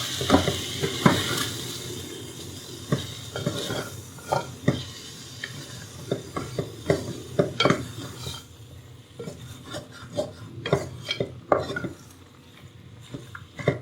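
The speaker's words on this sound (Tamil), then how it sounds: "இதெல்லாம் நல்லா மிக்ஸ் பண்ணிக்கணும்." A spoon scrapes and clinks against a pan in irregular strokes while mutton and spices sizzle steadily underneath, close and moderately loud.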